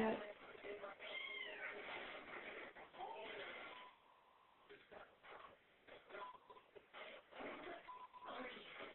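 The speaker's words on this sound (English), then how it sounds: "Hey, cat." An indoor cat meows several times in drawn-out, rising and falling calls, fairly faint and close, with pauses and soft background noise between them.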